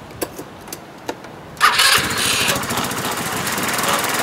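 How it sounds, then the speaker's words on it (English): A 150cc GY6 scooter engine is started: a few faint clicks, then a sudden loud catch at about 1.6 seconds, settling into a steady, close idle that continues to the end. "you should turn on your engine of the scooter and let it run for at least 2 minutes so it can warm up"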